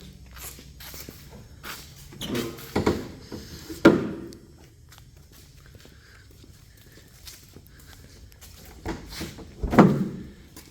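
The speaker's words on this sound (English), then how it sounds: "And we'll close our hood." A heavy hollow thud as a bus hood slams shut, followed by quieter clunks and a second solid slam near the end, with no talking.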